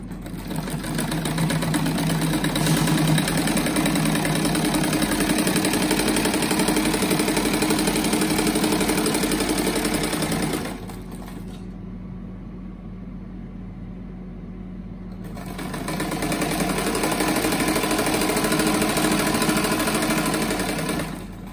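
A sewing machine runs fast and steadily while stitching folded fabric strips for a patchwork rug, pausing briefly midway to a quieter hum before resuming its close, continuous whirring drone.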